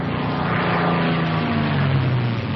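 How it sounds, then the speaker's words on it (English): A P-51B Mustang propeller fighter diving, its engine and airscrew roaring loud and steady throughout with a slowly rising and falling pitch as speed builds, close and continuous with no talk. "Plane gains speed extremely fast in a dive."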